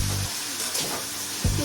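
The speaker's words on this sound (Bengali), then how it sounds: "গ্রেট করা পেঁয়াজগুলোকে দিয়ে দিচ্ছি। দিয়ে একটু ভেজে নিচ্ছি।" Grated onions fry in oil in a pan, a close, steady sizzle with scraping stirs, including a louder stir-and-sizzle burst near the end.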